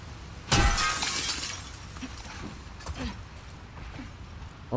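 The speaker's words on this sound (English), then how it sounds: "Guess I have to break the window" A glass window smashed in The Last of Us Part 2: one sudden, loud shattering crash followed by a brief spray of tinkling shards, then faint scattered debris clinks in a quiet room.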